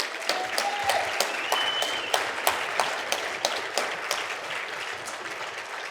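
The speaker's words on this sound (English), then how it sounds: "deserves another round of applause" Audience applause at a university town hall in Wilkes-Barre, Pennsylvania, a dense, steady patter of many hands clapping at moderate volume for the full stretch, with a few sharper individual claps standing out.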